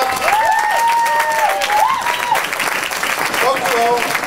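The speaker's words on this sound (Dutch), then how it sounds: "Een applaus voor Anton Corbijn, want hij heeft het gemaakt." Crowd applause and some cheering at the unveiling of a kite in The Hague, continuous clapping mixed with voices and a whistle-like tone, fairly loud throughout.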